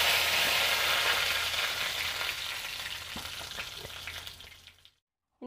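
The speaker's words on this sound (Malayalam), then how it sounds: "ഇനി കുറച്ച് കറിവേപ്പിലയും ചേർത്ത് കൊടുക്കാം." Curry leaves crackle and sizzle loudly in hot oil in a pan while a Kerala-style mathanga erissery is cooked, a dense, steady frying hiss that slowly eases before cutting to silence near the end.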